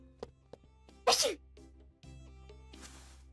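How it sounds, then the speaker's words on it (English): A single sharp, loud sneeze bursts out over low background music and game sounds, with brief talk before and after. "Bless you."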